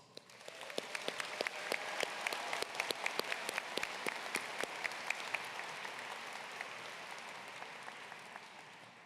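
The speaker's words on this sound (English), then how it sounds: "all of which deserves a round of applause" Audience at a 2024 high school graduation ceremony breaks into applause, a dense wash of many hands clapping that swells quickly, holds steady and gradually thins out, heard from within the crowd.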